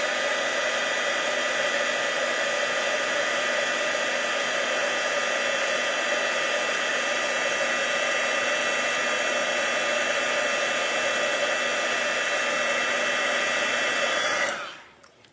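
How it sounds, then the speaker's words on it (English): A handheld heat tool blows steadily over embossing powder on a handmade card, making a loud, constant whirring hiss that runs unbroken for about fourteen seconds and then cuts off abruptly, with no talking. "use my heat tool and heat emboss this"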